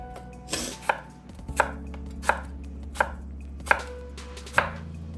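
A knife slices a Granny Smith apple on a cutting board in six crisp, evenly spaced chops, each a short sharp knock, close and clear with no speech.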